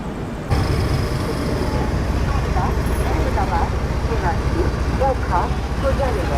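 Rajdhani Express passing through Govindpuri Junction in Kanpur, heard as a loud, steady rail rumble with scattered metallic squeals and chirps over the top, and faint voices in the background.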